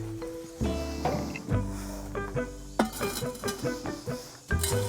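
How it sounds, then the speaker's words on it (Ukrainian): A pot of water set down while kutia is prepared in a kitchen, a few metallic clinks and knocks with ringing tones, followed by scattered lighter clatter of cookware. "Для цього також ставимо каструльку з водичкою."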